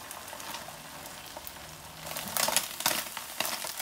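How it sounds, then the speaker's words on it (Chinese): An egg pancake fries in oil in a pan after being flipped, giving a steady close sizzle that swells with a few louder crackles toward the end. "翻另一面继续煎。"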